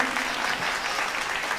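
An audience at a poetry recital by Anamika Jain applauds, a brief, steady, full burst of many hands clapping at once.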